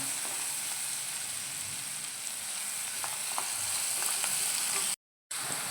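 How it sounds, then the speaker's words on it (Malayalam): Onion, green chilli, ginger and garlic fry in a pan for a squid masala curry in coconut milk, giving a steady, dense sizzle with a few faint scrapes and a brief gap near the end; no voices. "സവാള, പച്ചമുളക്, ഇഞ്ചി, വെളുത്തുള്ളി, ഈ സാധനങ്ങളെല്ലാം ഇട്ടിട്ട് ഒന്ന് മൊരിക്കണം"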